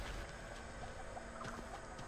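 Chicken clucking in The Texas Chainsaw Massacre game, a few soft clucks over steady low game ambience with no talk.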